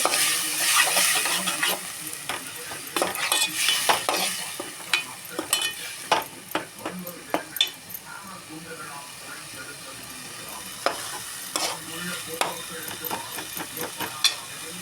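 Ginger, garlic and chopped onion fry in a pan while a spoon keeps stirring, a steady close sizzle broken by frequent sharp scrapes and taps of the utensil, with speech at times over the cooking noise.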